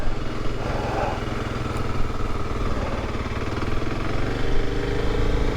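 A repaired motorcycle pulls away in first gear in a parking lot in Alaska, its engine a steady, close, droning rumble throughout, with no voices over it.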